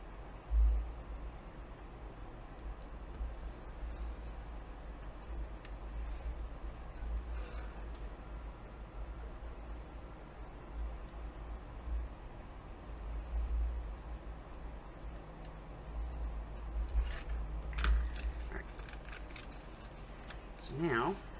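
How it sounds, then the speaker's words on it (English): Scissors cut a paper window out of a journaling card in a quiet room. The snips are faint and soft and mostly sparse, with a short cluster of crisper cuts near the end. "So we're cutting that window out."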